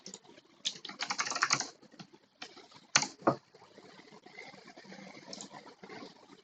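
Quick bursts of typing on a computer keyboard, a flurry of close, crisp keystrokes followed by a couple of sharp key taps and lighter scattered clicks, heard alone without talk.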